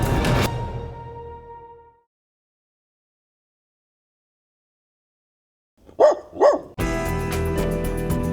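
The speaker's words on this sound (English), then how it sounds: "these are just some of the dogs we love" Two sharp dog barks ring out close by in quick succession after a long stretch of silence, framed by bursts of other sound before and after.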